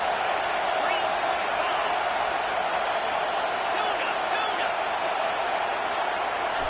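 Loud, sustained roar of a college football stadium crowd during a Texas Longhorns fourth-down play, a dense steady wall of cheering with no breaks.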